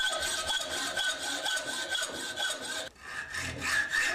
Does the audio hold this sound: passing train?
no